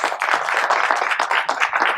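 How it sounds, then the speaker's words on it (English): Audience at a summit award ceremony applauding, a dense, steady wash of many hands clapping, close and loud throughout. "Please give a round of applause."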